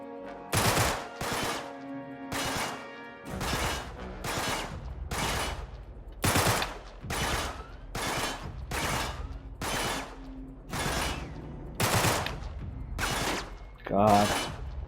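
Rapid gunfire bursts in the Uncharted 3 video game crack out about a dozen times at a steady rhythm, loud and close, each burst a sharp broadband clatter with brief gaps between.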